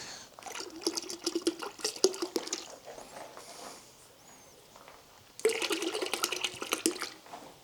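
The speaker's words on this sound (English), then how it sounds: "So I'm gonna give it a generous dash in the bucket." Liquid car shampoo gushes into a wash bucket in two splashy pours separated by a short pause, close and moderately loud, with no talking.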